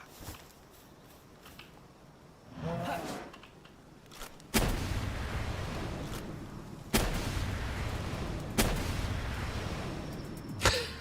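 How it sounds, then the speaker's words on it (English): Grenade launcher shots in Palworld come as heavy booming blasts, about four loud impacts spaced a couple of seconds apart, each with a rumbling tail, plus a muffled burst near the start. "It's so ridiculous, that grenade launcher."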